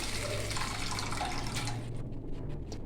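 Dissolved tomato and tamarind water pours from a vessel into a cooking pot for dal rasam, a steady liquid splash that thins out near the end.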